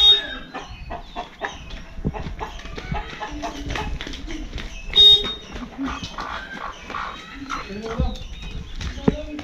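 Roosters and hens around a Konkan village yard, with repeated close clucks and crowing-like calls scattered over the whole stretch, mixed with nearby chatter from people.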